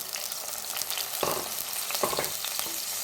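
Shallots, garlic and ginger sauté in a hot pan with a steady close sizzle, while two louder bursts of stirring scrape and crackle through it.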